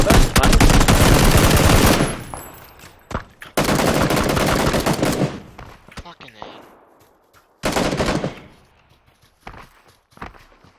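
Loud automatic gunfire in PUBG, with long sustained bursts separated by short gaps and a final shorter burst, plus softer scattered thumps and movement in the quieter stretches.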